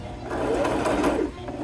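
A sewing machine stitches a dart in a wool coat, a close continuous mechanical whir lasting the whole moment and easing off briefly near the end.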